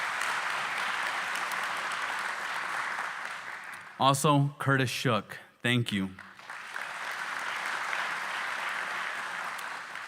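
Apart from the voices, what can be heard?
audience applause at a groundbreaking ceremony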